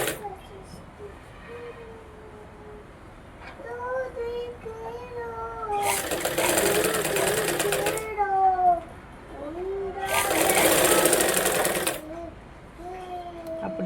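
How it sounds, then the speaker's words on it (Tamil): A sewing machine stitches a blouse lining in two loud bursts of about two seconds each, with someone speaking between and over them. "அப்படியே 1/2 இன்ச் அளவுக்கு தையல் போட்டுக்கலாம்."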